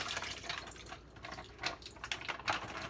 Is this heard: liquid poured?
yes